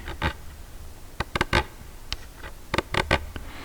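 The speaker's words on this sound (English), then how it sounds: "This is the sound of the volume button." A series of small plastic clicks and ticks from a cassette player radio's ridged volume button being handled, some single, some in quick pairs, close up with quiet pauses between.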